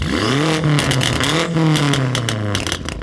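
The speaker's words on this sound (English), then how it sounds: "let's do a quick sound check because the upgraded exhaust on this is awesome" A BMW M5 with an upgraded exhaust revs loudly up close, its engine note rising and falling in two strong pulls with a rough, crackling edge.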